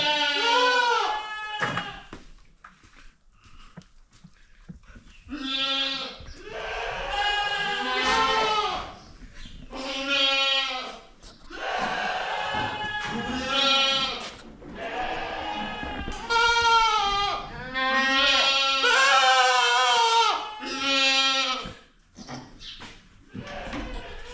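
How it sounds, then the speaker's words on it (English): A crowd of goats in a barn bleats loudly and constantly, many overlapping cries rising and falling close by, with barely a pause between calls. "you're probably going to be able to hear all these goats screaming"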